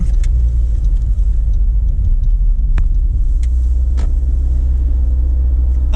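A car's engine rumbles low and steady as the car pulls away from a traffic light, close by and continuous, with no talk.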